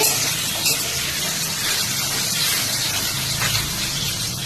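Loud, continuous sizzling hiss of food frying in hot oil, steady and close throughout.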